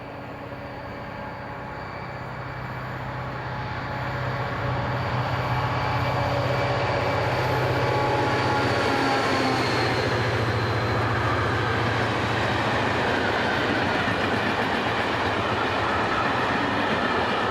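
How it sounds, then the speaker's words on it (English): A class MZ diesel locomotive hauls a freight train toward Hamburg, a steady engine drone and rolling wagon noise that swells as it approaches and stays loud and close for a long continuous passage. "Here we have class MZ number 1414 on a train for Hamburg."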